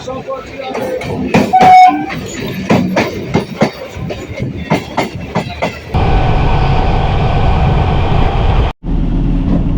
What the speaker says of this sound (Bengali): আর এই মুহূর্তে ছেড়ে দিল Sealdah Krishnanagar city galloping local